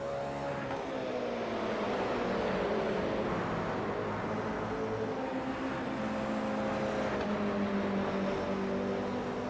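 Race cars circling Watkins Glen in an iRacing ChampCar series race, a steady droning engine note with shifting whines as several cars run close together at moderate volume, with no talking.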